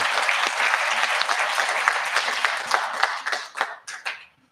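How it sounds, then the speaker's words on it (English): An audience at a live writers' event gives author Devin Allen a round of applause: steady, full clapping from a crowd that thins into a few scattered claps and fades out. "one more round of applause for Devin"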